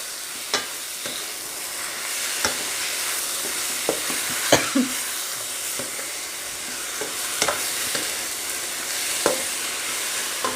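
Salmon pieces and fish balls stir-fried in a hot pan, a steady sizzle broken by sharp clacks of a spatula against the pan at irregular intervals, close and fairly loud, with no talk.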